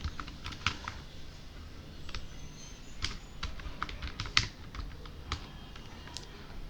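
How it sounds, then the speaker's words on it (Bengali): Fingers tap out a short entry on a computer keyboard, a run of light, irregular close key clicks in a quiet room with no talking. "এখানে লোকাল হোস্ট লিখে সার্চ দিব।"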